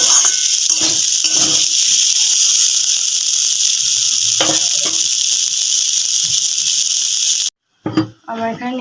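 Vegetables with Maggi masala fry in a pan for veg pasta, giving a loud, constant high hiss and sizzle with occasional stirring scrapes, cut off near the end by a brief voice.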